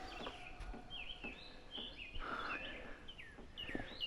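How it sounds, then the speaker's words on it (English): Several birds sing and chirp outdoors on a damp morning after rain, quick repeated whistled phrases and tweets from different directions over soft background ambience, no talking. "Birds are singing."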